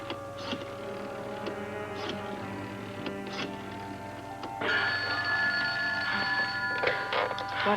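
A telephone rings repeatedly in an indoor scene from a 1982 soap opera, with short trilling bell bursts at a steady rhythm, fairly close, over low background noise.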